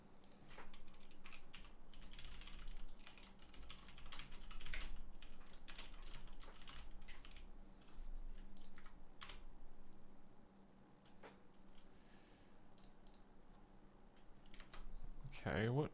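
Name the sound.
typing on a computer keyboard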